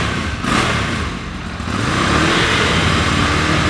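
Close and loud, a 2014 Ducati M795 on its stock exhaust blips its throttle, rising and falling quickly over an idle, then holds at a higher, steady roar. No voices are heard.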